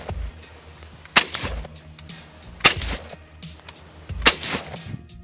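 Three sharp, loud rifle shots from an SKS, a Soviet semi-automatic rifle, spaced well apart, each a crisp crack with a short rumbling tail, and no voices heard.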